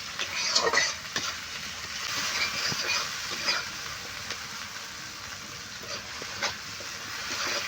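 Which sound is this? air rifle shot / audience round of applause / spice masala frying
spice masala frying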